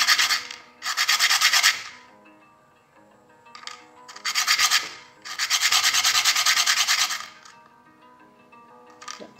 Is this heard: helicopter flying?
no